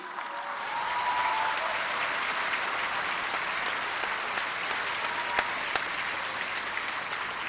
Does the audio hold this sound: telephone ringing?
no